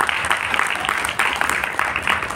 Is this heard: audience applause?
yes